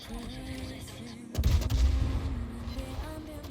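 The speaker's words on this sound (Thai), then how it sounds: "ยิงด้วย AP อย่างเงี้ยแหละครับ" The Blücher cruiser fires armor-piercing shells in a naval video game, a heavy booming salvo bursting out midway over steady game music and engine hum.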